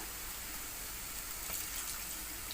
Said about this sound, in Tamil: இப்போ வந்து ஒரு கப் அளவில் தண்ணி விட்டுக்கலாங்க